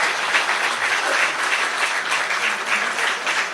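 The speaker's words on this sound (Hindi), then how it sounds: "देखिए सबसे ज्यादा तालियां बज गई आज।" Applause fills a Congress party meeting hall, a dense, sustained clapping from a large crowd that holds steady and loud throughout without talk.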